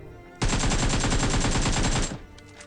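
Sustained automatic gunfire in the mobile battle game PUBG Mobile, a loud, close burst of rapid, evenly spaced shots lasting under two seconds before stopping, with faint later echoes.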